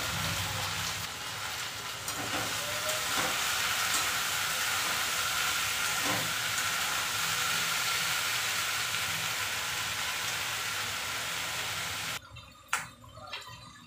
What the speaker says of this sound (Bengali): তেল গরম হয়ে গেছে, এবার আমি ভেন্ডি আর আলু কাটা রয়েছে